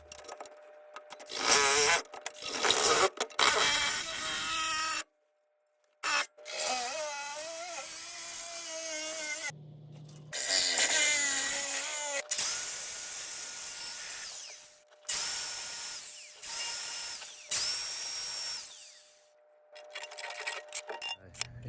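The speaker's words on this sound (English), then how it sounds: "all I was using was basically a Milwaukee Sawzall. It's just the normal M18, and then it actually is a Milwaukee blade" Milwaukee M18 Sawzall with a Milwaukee blade cutting through a metal exhaust pipe on a Jeep CJ7 with a small-block 350, loud close rasping strokes in repeated bursts broken by abrupt stops and short silences.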